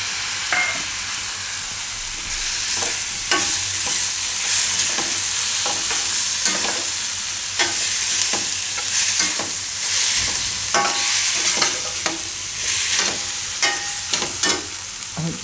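Besan bhurji with tomatoes frying in a pan, sizzling steadily while a spoon scrapes and stirs in repeated strokes, close and fairly loud with no talking.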